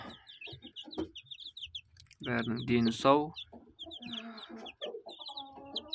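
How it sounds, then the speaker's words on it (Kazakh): Five newly hatched incubator chicks peep in quick high bursts around a voice speaking nearby, their cheeping continuing through and after the talk. "Ал шыққан балапандар осы."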